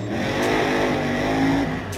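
A monster truck engine revs steadily and loud, holding a rising, sustained roar for about two seconds before it drops away near the end.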